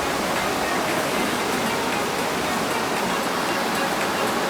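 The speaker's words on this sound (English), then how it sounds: "the sound of the water is so great that I don't think so you can hear my voice" Water gushes and roars through the Partnachklamm gorge in Germany, a loud, steady, unbroken rush that fills the whole clip and buries any other sound.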